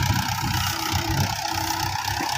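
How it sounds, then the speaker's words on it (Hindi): A Mahindra 575 tractor pulling a 7-foot rotavator through a field, its engine giving a steady, close, unbroken diesel drone with a low rumble and no pauses. "ये थोड़ा आप एक्सपैरीमेंट ही करते पे हाँ कि ट्रैक्टर किवें चलता वा रोटावेटर पर"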